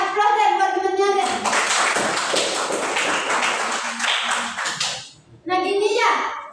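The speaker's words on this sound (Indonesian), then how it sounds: "Kasih aplaus deh buat temennya deh." Classmates clap for a student after a correct answer in an Indonesian classroom lesson, a short ragged round of applause between spoken passages, with a teacher's voice heard before and after.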